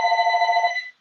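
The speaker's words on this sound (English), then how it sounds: "sorry about the house phone" A house telephone rings with a steady electronic trill, close and fairly loud, for about a second before cutting off.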